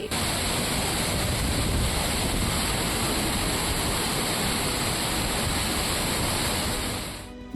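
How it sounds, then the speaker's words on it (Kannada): Surumane waterfall in Chikkamagaluru, Karnataka, running in full flood after heavy monsoon rain, a loud, steady broadband roar of crashing water that fills the whole stretch without pause, close and unbroken, with no voices. "ಚಿಕ್ಕಮಗಳೂರಲ್ಲಿ ಅಪಾಯದ ಮಟ್ಟ ಮೀರಿ ಸುರುಮನೆ ಜಲಪಾತ ಧುಮ್ಮಿಕ್ಕುತ್ತಿದೆ"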